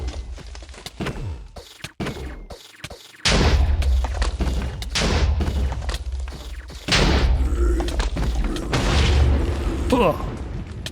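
Booming wither skull blasts from Minecraft (Divine Journey 2 modpack) hit repeatedly in a dense, loud cluster of thuds and bursts, heavy low rumble throughout, with a voice talking over the explosions.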